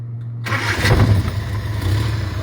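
An engine cranks and catches, then settles into a steady low running hum with a brief rise in the middle, loud and close, with no talking.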